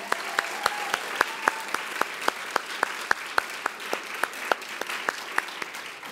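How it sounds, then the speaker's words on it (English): Audience applause for third-grade multiplication bee winners: sparse, fairly faint clapping with a few distinct loud individual claps standing out in a steady rhythm throughout. "Let's give all of our winners a great big round of applause."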